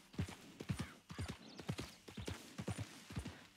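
A horse's hooves clip-clop steadily in the video game Red Dead Redemption 2 around the town of Blackwater, close, even and rhythmic, with no talking over them.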